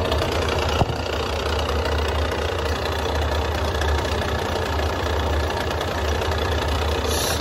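A motorcycle engine idles steadily close by in cold weather after a flat tyre, a constant low rumble with one brief knock near the start.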